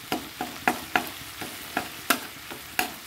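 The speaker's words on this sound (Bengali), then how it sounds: "দেখো ভালো করে একটুখানি কষিয়ে নেবো" Tomato with salt, turmeric and green chili is stirred in a sizzling pan, with regular scraping strokes about every third of a second over a soft frying hiss.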